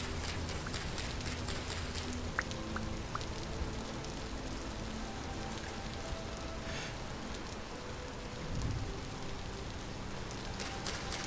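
Rain falls in the video game Vintage Story, a steady, dense patter of raindrops on surfaces heard alone throughout, fairly quiet with a few scattered drips.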